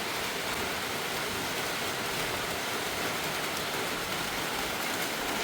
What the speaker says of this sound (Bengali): এদিক দিয়ে দেখুন ঝুপ ঝুপ ঝুপ ঝুপ করে বৃষ্টি হচ্ছে